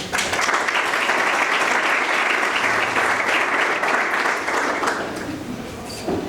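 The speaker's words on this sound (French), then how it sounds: "Franchement, vous pouvez applaudir pour vous." An audience of students at a youth leadership talk claps loudly and steadily for about five seconds before the applause thins out and fades.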